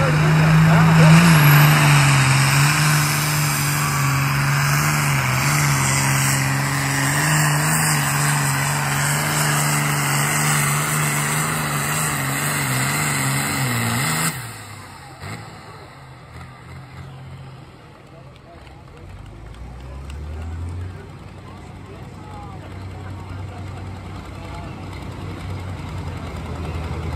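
A pulling tractor engine revs loud and sustained at a county fair tractor pull, the turbo whine climbing for about fourteen seconds before dropping off to a quieter, rumbling idle, with crowd and announcer voices underneath.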